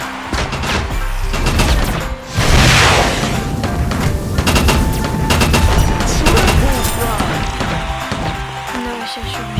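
Heavy bursts of gunfire and booming impacts in a video game, shot at a wall that holds a turret, come loud and close throughout, with crashing hits mixed in.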